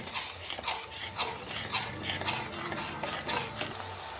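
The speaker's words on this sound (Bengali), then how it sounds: "টক দই দেব, স্বাদ মতো লবণ আর চিনি দিয়ে ভালো করে মশলা কষে নেব।" A spice paste of tomato, sour yogurt, salt and sugar is stir-fried in a pan, with a steady sizzle broken by rhythmic scraping and stirring strokes that come about twice a second, close and clear.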